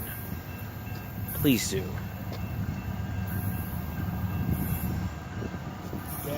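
A CSX freight train rolls past with a steady rumble of wagons, a brief wheel squeal early on, and a faint horn, while people talk over it.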